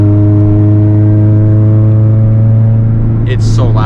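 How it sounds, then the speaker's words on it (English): A loud modified car engine drones steadily with a strong low hum from inside the car, and a voice begins speaking over it near the end. "The car is so loud now."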